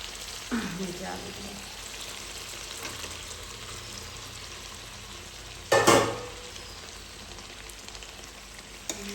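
Potatoes added to a pan of kosha mangsho fry with a steady, close sizzle, broken by a few clattering stirs and a brief loud burst of spattering partway through.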